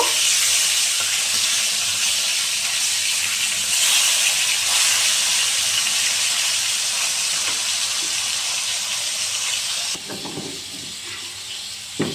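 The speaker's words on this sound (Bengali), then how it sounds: "এটা একটু ভাজা ভাজা করে নিচ্ছি, খুব একটা ভাজবো না, অল্পই ভাজা ভাজা করে নেব" Small rohu fish frying in a pan, lightly browned, with a steady loud hiss and sizzle of hot oil running throughout, dipping briefly near the end as something stirs or shifts.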